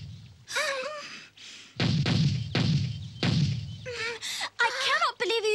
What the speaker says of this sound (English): I cannot believe you're using cannon to shoot the ducks